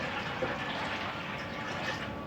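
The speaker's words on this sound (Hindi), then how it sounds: "ये एक और जग इसमें डाल देंगे पानी का।" A second jug of water pours into a pot of spiced kadhi mixture, a continuous close gush and splash that runs unbroken for a couple of seconds, with no talking.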